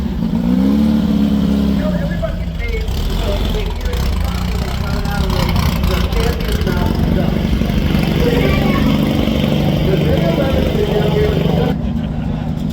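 A two-stroke off-road race vehicle roars past at a Mint 400 street festival on Fremont Street with a loud, buzzing engine note that stays strong throughout, backed by steady crowd noise and voices.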